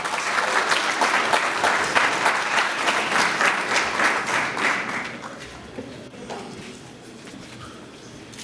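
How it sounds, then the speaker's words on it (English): A crowd at an education expo in the Bay Area applauds a congressional candidate with steady, dense clapping that fills the room, then thins out to a few scattered claps and quiet hall noise. "please give a big round of applause for our future Congressman, Rishi Kumar."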